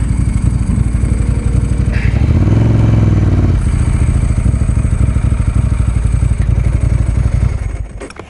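A Ducati 916 motorcycle engine revs hard and loud against its rev limiter, producing a rapid, stuttering drone with clattering pulses. It swells around the middle and fades out at the end, with no talking.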